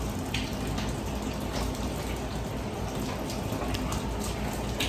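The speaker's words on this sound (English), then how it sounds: "it's gonna drip an hour or two till all that water gets down" Rainwater leaking through a flat roof drips and splashes continuously, a dense steady patter with sharper drops now and then, fairly close.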